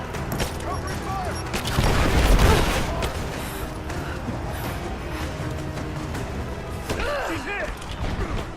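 Sustained automatic gunfire from a covering-fire firefight in the video game Rise of the Tomb Raider, loudest burst around the middle, with game voices speaking over the shooting.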